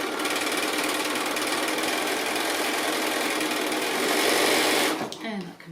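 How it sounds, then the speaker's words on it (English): A sewing machine stitches quilt fabric for a shadow block made from 5-inch squares, running in one loud, continuous mechanical whir for about five seconds before stopping abruptly. "I'm going to sew along here"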